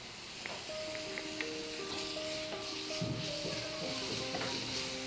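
Garlic ginger paste and onions frying in a pan for veg mushroom keema give a steady, close sizzle that runs the whole time beneath a gentle background melody.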